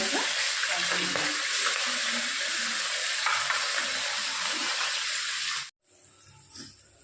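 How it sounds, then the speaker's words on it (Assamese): Onion and garlic fry in a pan with a loud, busy crackling sizzle for several seconds before it cuts off abruptly, leaving quieter background sound. "মই এতিয়া ইয়াত ধুনীয়াকৈ পিঁয়াজ নহৰুখিনি ধুনীয়াকৈ মই ভাজি ল'লোঁ।"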